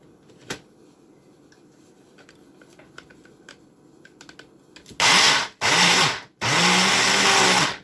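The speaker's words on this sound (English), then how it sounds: "And I'm going to blend until it becomes a nice, homogenized, fragrant paste." A kitchen blender purees orange zest into a fragrant paste, starting after a few quiet clicks and handling sounds with three loud, close bursts of whirring motor separated by brief pauses.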